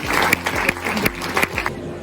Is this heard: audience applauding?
yes